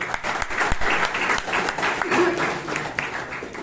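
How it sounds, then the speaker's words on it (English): Toastmasters club meeting audience in Bangalore giving a round of applause, dense steady clapping from a room of people, close and fairly loud for several seconds. "So one more round of applause."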